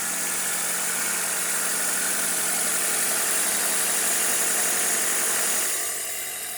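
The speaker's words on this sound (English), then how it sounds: "Let's check out the engine while the car's running." A 1997 Toyota Corolla DX engine idles steadily with a smooth, continuous mechanical hum and broad hiss, fading slightly near the end, with no talking.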